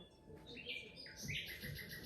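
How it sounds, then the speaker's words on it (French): Evening birdsong in a southern garden near a pool: dense overlapping chirps and trills, fairly distant, over a steady background hum with no talking. "C'est ouf, les oiseaux. Vous entendez ça?"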